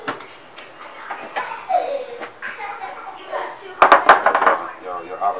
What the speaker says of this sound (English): Cut these up. Cut up your avocados.